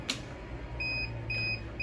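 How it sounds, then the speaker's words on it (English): Two short, faint electronic beeps sound from a Prius Rhythm Turn mattress unit's alarm after a power failure, each a steady high tone, heard alone over a low background hum. "you'll hear an audible beep letting you know that power's been cut to the unit"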